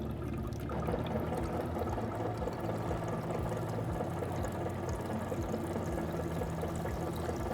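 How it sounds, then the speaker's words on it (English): Clear water flows steadily from a pressurized Electro Freeze soft-serve machine while its pump runs, a continuous faint rushing stream with a low mechanical hum underneath and no voices. "we're going to turn the pump on to start bringing up that water"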